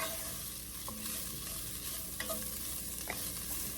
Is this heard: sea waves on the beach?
no